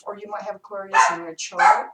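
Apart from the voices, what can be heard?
dog barking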